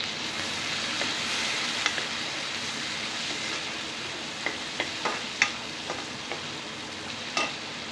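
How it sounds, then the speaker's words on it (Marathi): Chopped tomatoes frying in hot oil give a steady, close sizzling hiss throughout, broken toward the end by several sharp clicks and taps of a spoon stirring against the pan. "अर्धे टोमॅटो असे या तेलामध्ये टाकून घ्यायचे."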